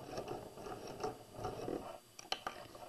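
A sewing machine runs a plain top stitch down a strip of pillow fabric, giving a steady, soft mechanical whir with fast regular pulses that stops after about two seconds, followed by a few light clicks.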